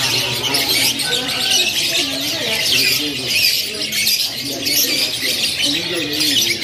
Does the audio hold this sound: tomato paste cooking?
no